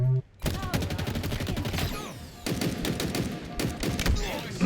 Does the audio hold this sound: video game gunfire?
yes